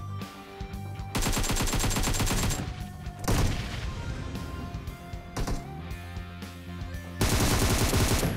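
Automatic gunfire in PUBG Mobile during a tournament match, loud rapid bursts of shots repeating in several long volleys separated by brief pauses, close and dominant with almost no talk.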